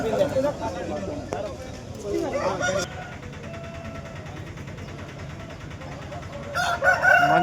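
Roosters at a village chicken market, with a crow rising over a busy crowd and nearby talking, and a louder burst of crowing near the end.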